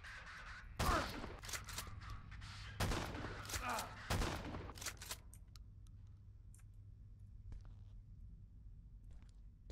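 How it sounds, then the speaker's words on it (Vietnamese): Shotgun blasts in a horror video game, several sharp loud bangs spaced about a second apart, followed by quieter clicks and handling noises. "Ba viên shotgun là đi ngủ ngay."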